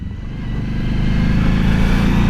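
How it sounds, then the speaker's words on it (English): A motorcycle being downshifted without the clutch, its engine note droning steadily and close with rising loudness and low rumbling throughout, no voices. "I know how to downshift the bike without a clutch"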